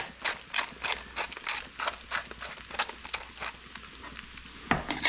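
Duck confit fried rice being stirred in a pan gives repeated scraping and clattering strokes in an uneven rhythm over a soft sizzle, with a sharper knock near the end.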